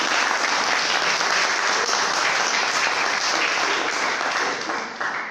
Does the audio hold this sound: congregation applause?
yes